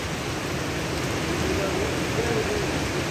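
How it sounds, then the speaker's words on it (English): Heavy rain pours steadily at a sulfur hot spring after dark, a constant dense hiss throughout with a faint voice briefly under it. "It's so rainy."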